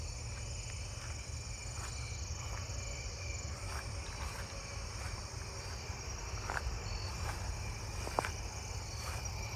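Two-spotted tree crickets call at night in a steady, continuous high trill, faint and distant, with other insect chirps scattered through a dense nocturnal chorus and no voices.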